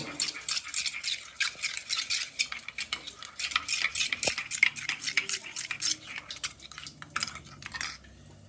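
Curry paste is stirred and mixed in a pot, giving rapid, fairly quiet scraping and clinking of a utensil against the metal in an even repeated rhythm, with no talking.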